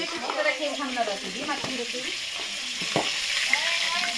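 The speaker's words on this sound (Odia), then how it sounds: "ମାଛ ଭଜା ଚାଲିଛି ଆଉ ଗୋଟେ ଥର ଭାଜି ଦେଇଛି" Fish frying in a pan gives a steady, fairly close sizzling hiss, broken by a few scraping stirs, with faint muffled voices in the background.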